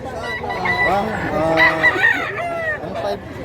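A young rooster (stag), about a year old and offered for sale, crows loudly and close by in a rising, wavering call, with faint background noise and no clear speech over it.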